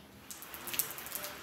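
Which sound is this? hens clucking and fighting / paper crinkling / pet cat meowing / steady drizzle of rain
steady drizzle of rain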